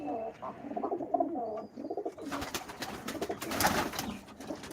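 Female pigeons in a loft coo in soft, warbling low calls close by, one after another, then a burst of fluttering and scuffling noise takes over the second half.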